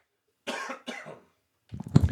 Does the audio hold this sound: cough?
yes